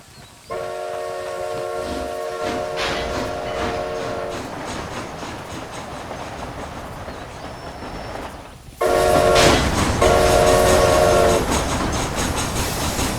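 A steam train in the video game Red Dead Redemption: Undead Nightmare rumbles and clatters continuously, its loud whistle sounding in a long blast early on and again in two shorter bursts later.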